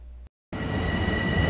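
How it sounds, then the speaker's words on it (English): Commuter train of the Babylon branch pulling into Babylon station, a loud steady rumble of wheels and carriage noise after a brief gap of silence, with high metallic tones running through it. "this is just the 4:15 train rolling into the Babylon station"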